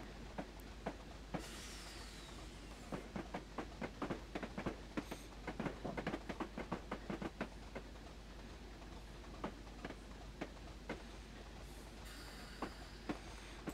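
A Class 25 diesel locomotive hauling a train on the Weardale line, heard from inside as a steady low drone with a long run of irregular clickety-clack wheel beats over rail joints, fairly quiet overall.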